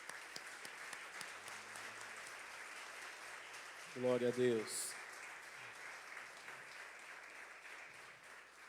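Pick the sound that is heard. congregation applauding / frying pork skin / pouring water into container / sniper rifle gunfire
congregation applauding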